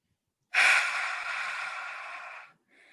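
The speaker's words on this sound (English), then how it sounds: "Deep breathing, in which your inhale and your exhale is the same length." A person takes one long, deep breath close to the microphone, a steady airy rush lasting about two seconds before the next breath begins.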